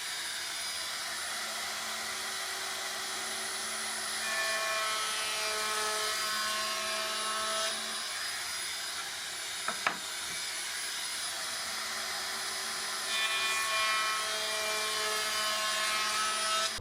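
A wood router cuts a roundover edge on wooden bread bin panels, giving a steady, loud high-pitched motor whine that shifts in pitch as it feeds along, with a brief knock partway through and no voices.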